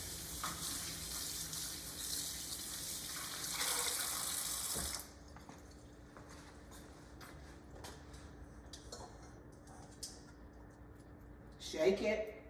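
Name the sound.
water running from a tap while washing hands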